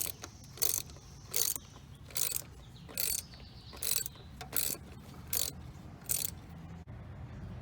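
A hand ratchet clicks in about nine short, evenly spaced bursts of sharp metallic ticking while loosening the fuel filter on a 2014 Mercedes GL 350 Bluetec, with a low background hum between strokes.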